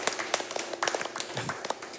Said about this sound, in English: Can we get some applause in the house here?